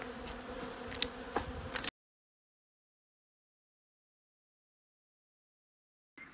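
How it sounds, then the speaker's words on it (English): Bees swarm a tree outdoors, giving a faint, steady hum for about two seconds before the sound cuts to silence. "this tree is just full of bees."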